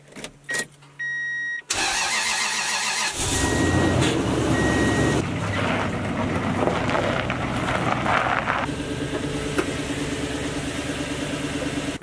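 A warmed-up Toyota Tundra pickup truck idles outdoors on a cold day. The engine holds a steady, broadband rumble, with wind buffeting the microphone and a few faint beeps in the first seconds.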